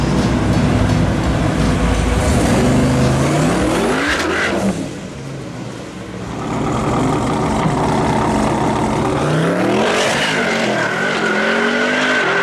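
A twin-turbo Jeep Trackhawk making 1400 horsepower roars loudly and close, engine revving hard with rising pitch sweeps, a brief dip as it lifts off, then another surging acceleration with possible tire squeal.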